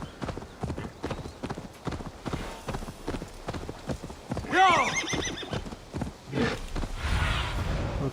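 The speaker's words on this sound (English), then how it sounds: "Vamos, caballo, ya casi llegamos." Rapid clip-clop of a horse's hooves in the video game Assassin's Creed Valhalla, steady and close, with a loud whinny midway and a voice speaking faintly beneath.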